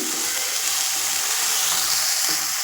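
Food sautés in a pan with a continuous bright hissing sizzle and light crackle, steady and fairly close.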